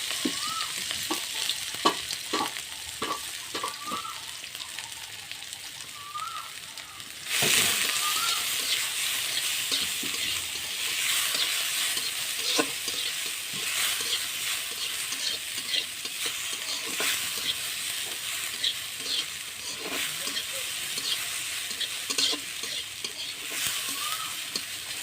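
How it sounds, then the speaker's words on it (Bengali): Onions sizzle in hot oil in a pan while being stirred for a taki fish bharta, the frying jumping suddenly louder early on, then hissing steadily with occasional scraping stirs. "এবারে তেলের মধ্যে পেঁয়াজগুলো একটু ভাজি নেব।"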